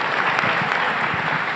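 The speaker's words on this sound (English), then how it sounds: "a big round of applause for them" An audience at a Title IX 50th anniversary celebration breaks into dense, sustained applause, a steady wash of many hands clapping together at full loudness for the whole stretch.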